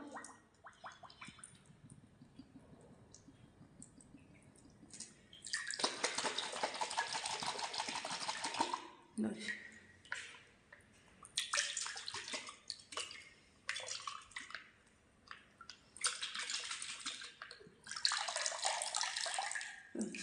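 Water sloshes and rattles inside capped bottles with baking soda and vinegar, shaken to clean out long-set algae, in several loud, close bursts separated by short pauses.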